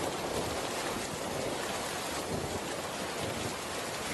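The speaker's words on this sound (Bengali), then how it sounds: "দেখ বৃষ্টি শুরু হয়ে গিয়েছে।" Cartoon rain begins with a dense, continuous hiss of falling water that holds steady and fairly loud throughout, with no voices.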